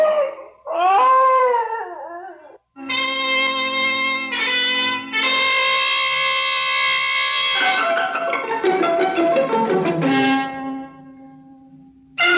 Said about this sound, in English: A dog howls at the back door and whines with fear